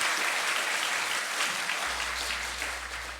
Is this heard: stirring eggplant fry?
no